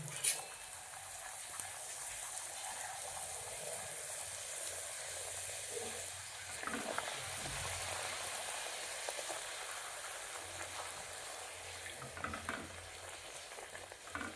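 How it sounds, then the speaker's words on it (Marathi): Wheat-and-maida puri frying in hot oil over a medium gas flame, a steady broadband sizzle with soft bubbling that holds for the whole stretch, moderately close, with no speech over it. "आता आपलं इथं तेल गरम झालेलं आहे आणि आता आपल्याला हे तळून घ्यायचं आहे."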